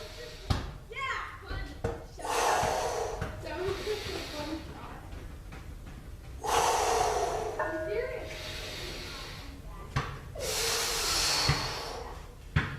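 Heavy, forceful breaths in and out during chest exercise reps, several loud rhythmic exhales close to the microphone, with some thuds between them and no speech.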